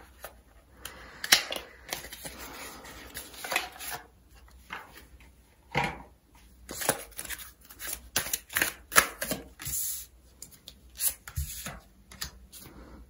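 Tarot cards being shuffled and drawn, a run of close, dry flicks, riffles and slides in uneven bursts with quiet gaps between them, and no talk.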